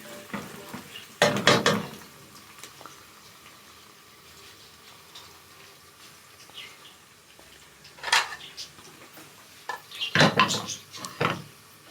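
Onions frying and browning in a pan, a soft sizzle under sharp bursts of clattering utensil stirring, with quieter stretches between the scrapes.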